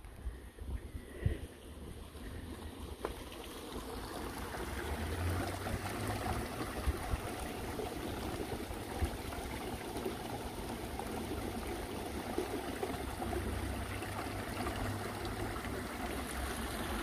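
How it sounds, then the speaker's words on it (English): Water spills over the edge of a small weir on a Cotswolds canal, a steady outdoor trickle and rush that swells after the first few seconds, with light wind noise around it. "A little bit of a weir type thing there with the water dripping off the edge."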